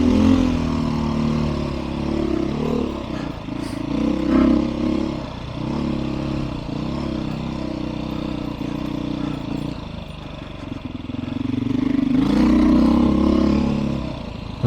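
A Beta 500 RRS dirt bike rides a Colorado forest trail, its engine thrumming steadily with rises and dips in revs and some clatter from roots and rough ground, while a rider talks over it.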